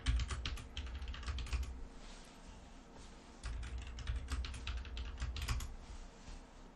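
Steady computer keyboard typing while domain details are entered on a Windows login, bursts of close, crisp keystrokes with a short pause midway, no talk.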